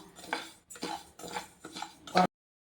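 Millet rice dry-roasting in a pan for laddu is stirred in five quick scraping strokes, each a gritty rattle of grains against the pan with short pauses between, close and fairly soft, ending abruptly.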